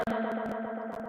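A sung vocal processed with reverb in Ableton Live holds a steady, phasey tone, with a rhythmic, chopped echo tail pulsing underneath, moderately quiet.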